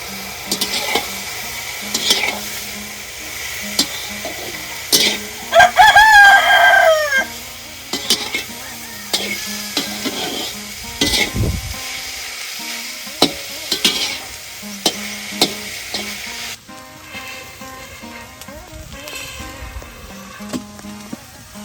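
Banana flower and dal being stirred and sautéed in a pan for vaazhaipoo usili, with steady scraping strokes and a soft sizzle, plus a brief rooster crow in the background.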